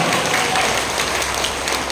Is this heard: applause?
yes